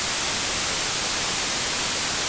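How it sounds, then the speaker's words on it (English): Plain white noise from an Ableton Live Operator synth, a loud, constant, even hiss that holds steady throughout without variation. "To showcase this here, I've got an operator playing just simple white noise."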